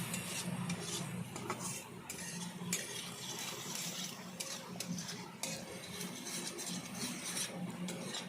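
A spatula stirs and scrapes tomato and spice masala for a samosa filling around a pan, producing repeated rasping strokes and clinks over a faint sizzle, close and fairly quiet, with no talk.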